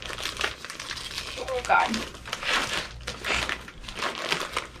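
Package wrapping crinkles and crumples in close, irregular bursts as it is opened, with a voice briefly speaking over it.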